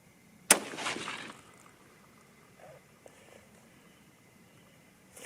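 A single 30-06 Springfield rifle shot, loaded with a 165 grain Sierra GameKing bullet, cracks out sharply at the start and then rolls off into a short fading boom, followed by quiet ambience and faint small noises.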